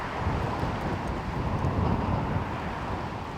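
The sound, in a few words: wind blowing on a disc golf course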